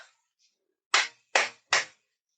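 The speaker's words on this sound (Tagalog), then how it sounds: "Ano gusto mo gawin ko? Pumalakpak." Three sharp hand claps ring out close and loud in a quick, slightly uneven rhythm after a short quiet stretch.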